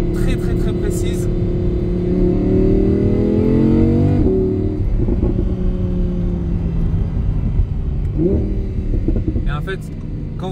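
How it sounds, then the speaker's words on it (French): An Audi R8 V10 engine revs and roars loudly, its pitch climbing and dropping through gear changes, with a steady rumble beneath. "entendre le bruit, entendre la mélodie du V10"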